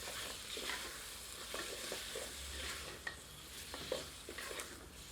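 Marinated chicken for Kashmiri-style chicken rogan josh is stirred in a pan of oil, with a soft continuous sizzle and several scraping strokes and light knocks of the spoon, quiet and close.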